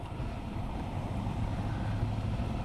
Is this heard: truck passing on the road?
yes